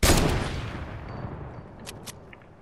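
A loud SCAR rifle shot in a video game, a single sharp blast up front whose echo slowly fades, followed by a couple of faint clicks.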